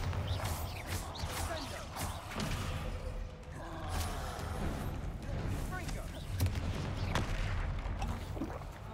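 Spell combat in Hogwarts Legacy with a Bombarda blasting spell among other spells: continuous busy battle noise of repeated sharp blasts, bursts and rumbling impacts, with clattering effects layered throughout.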